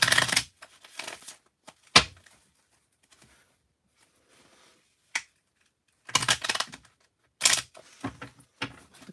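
Tarot cards are shuffled by hand in short bursts of crisp riffling and flapping, separated by quiet gaps and a few isolated sharp snaps, close and fairly loud.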